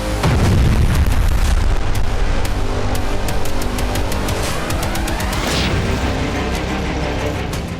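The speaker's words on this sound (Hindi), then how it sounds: "जैसे ही रॉकेट फटता है इजरायली पोस्ट तबाह हो जाती है।" A rocket exploding and destroying an Israeli military post near the Israel-Lebanon border, a loud, sustained roaring blast with heavy rumble that fills the whole stretch without letting up.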